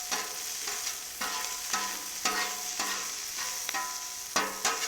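Fried rice and sausage crisping on a Cuisinart 360 XL griddle: steady bright sizzle punctuated by regular spatula scrapes and taps roughly every half second, close and without talk.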